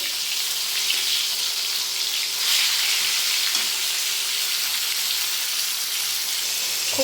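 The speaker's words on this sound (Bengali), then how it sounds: "এবার আমি এক এক করে সব মাছগুলো ভেজে নেব" Rohu fish pieces frying in hot oil in a wok give a steady, even sizzle and crackle that runs unbroken from start to finish, with no talk over it.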